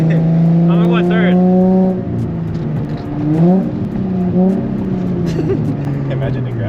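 A Nissan 350Z engine pulls hard in third gear, its loud, close drone climbing and dipping in pitch as the revs build and settle, with a brief shift-like dip partway through.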